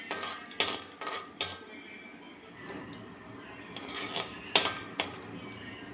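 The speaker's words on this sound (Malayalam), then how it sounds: "കടുക് നന്നായി പൊട്ടി വന്നിട്ടുണ്ട്" Mustard seeds for pickle pop in hot oil, giving scattered sharp clicking bursts over a low steady hiss, with no voices.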